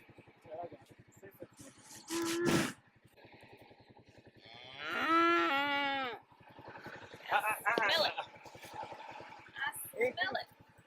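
Cattle on a sprigged pasture, a few close, loud moos with drawn-out bellowing calls, the longest held for about a second, over a low steady hum, with livestock noise and short vocal sounds in between.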